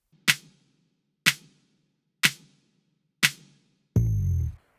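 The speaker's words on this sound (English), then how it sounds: "Here it is again with an emphasized clap and the body removed." Four evenly spaced, sharp drum machine clap hits with quick decays, emphasized with the body removed, followed by a short sustained tonal burst; moderately loud, no voices.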